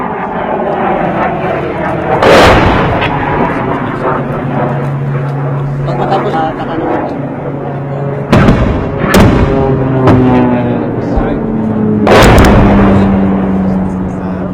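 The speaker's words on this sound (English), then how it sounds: "they're just about to send this mortar into enemy territory" Several sharp, loud broadband mortar blasts ring out at intervals over a steady droning hum during combat in Marawi, with people talking underneath.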